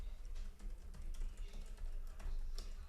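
Typing on a computer keyboard, a quick close run of soft key clicks over a low steady background hum, with no voice.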